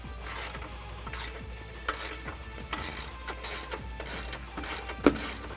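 Ratchet wrench with an 18mm socket clicking steadily as it backs off the last nuts on a Jeep Wrangler JK front bumper, a close, quiet series of rapid pawl ticks in repeated bursts with no talking.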